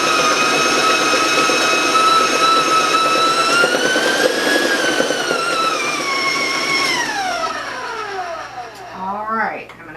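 Stand mixer fitted with a paddle whirring at a raised speed while mixing chocolate half sheet cake batter, a steady loud motor whine with rising pitch that slows and winds down near the end.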